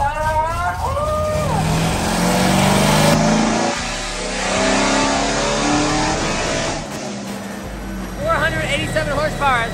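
A rebuilt Corvette engine revs hard on a power run, its pitch sweeping up and down through repeated loud climbs. Voices talk over the engine noise.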